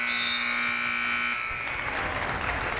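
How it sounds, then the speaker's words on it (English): An electronic scoreboard buzzer at a girls' high school basketball game at the Warrior Dome sounds one long steady tone to end the half, then cuts off into loud gym crowd noise. "Foley's gonna put up Kiernan, buzzer beater 3, can't get it to go."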